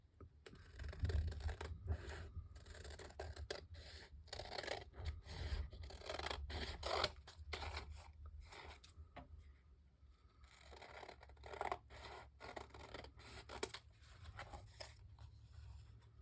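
Scissors trimming a Pinterest-inspired craft project, heard as a run of close, rasping snips and scraping cuts that come in irregular bursts for the whole stretch, with no talking.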